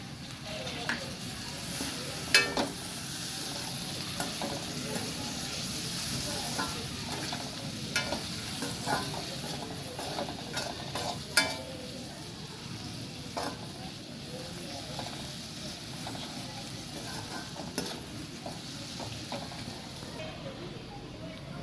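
Tomato stirred and fried in a pan for spicy Gujarati-style pasta gives a steady close sizzle, with scraping spoon strokes and clicks scattered through it and a brief voice near the start.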